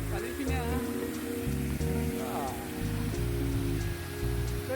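Water falls and splashes steadily indoors at the Coca-Cola museum in Atlanta. A constant hissing patter runs beneath nearby voices and some tonal sounds.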